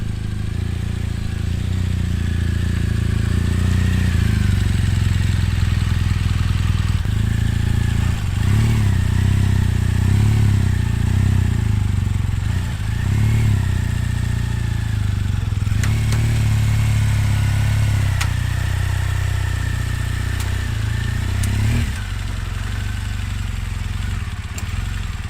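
Motorbike engine running steadily and loudly close by throughout while the bike is loaded onto a trailer, with a low rumbling idle, slight fluctuations and occasional clatter.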